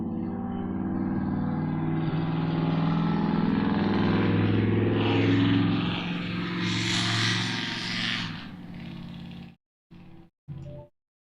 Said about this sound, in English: if I had mufflers that loud in my car, a cop would stop me every day